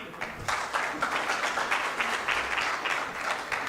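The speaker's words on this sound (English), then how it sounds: "Another round of applause to them." Audience applause for the first panel of presenters at an annual scientific symposium in a Dar es Salaam hotel: a steady, dense wash of many hands clapping at moderate loudness, continuing evenly throughout without talk.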